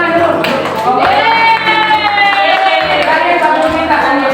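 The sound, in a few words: classroom applause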